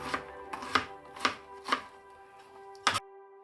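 A knife slices through an onion on a cutting board in six crisp, separate chops spaced roughly half a second apart, close and clear with no talking.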